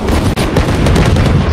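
Gunfire in the Valorant video game, a loud, dense stream of rapid shots with barely a pause, continuous and harsh throughout the short burst.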